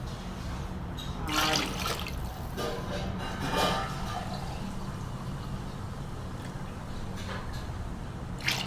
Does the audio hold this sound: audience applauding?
no